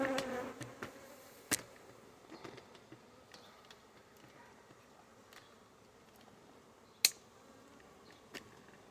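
Bees around a hive during the transfer of a swarmed nuc into a brood box, a faint, steady buzzing drone with scattered sharp ticks and clicks, heard alone without talk.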